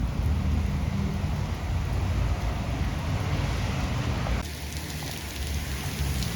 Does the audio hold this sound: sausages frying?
no